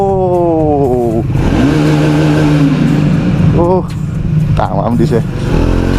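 A Triumph Speed 400 motorcycle engine revs loudly up close, its pitch climbing and dropping through several throttle blips over a steady idle rumble, while someone talks excitedly throughout.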